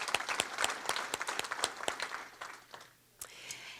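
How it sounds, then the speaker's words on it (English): An audience claps for honored veterans at an Honor Flight ceremony, a brisk scattered round of applause that thins out and fades near the end, with a few late claps, heard from a moderate distance. "Please join me again in a round of applause for all of our Mission 70 veterans."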